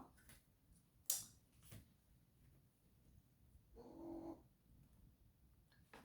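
A cat meows once in a brief, fairly clear call amid a quiet indoor room, with a sharp click just before and faint background noise throughout.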